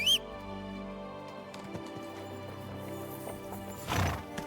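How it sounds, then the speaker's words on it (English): A horse in Kingdom Come: Deliverance II snorts and whinnies over a low in-game music bed, with scattered hoof clops and a louder rustling burst near the end. "Horse."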